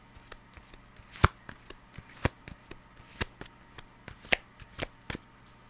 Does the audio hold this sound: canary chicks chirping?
no